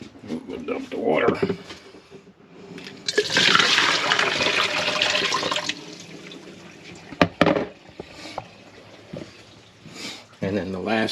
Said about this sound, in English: We'll dump the water.